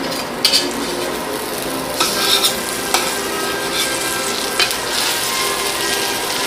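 Battered banana bread pieces fry in a pan with a steady, loud sizzle throughout, broken by a few light clicks and scrapes of a utensil turning the pieces.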